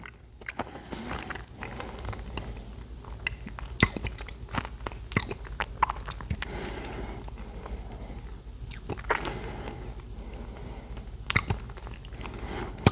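Biting and chewing a Crumbl peanut butter and chocolate cookie, with close, repeated crunchy bites and moist mastication sounds spread over the whole stretch, no talking.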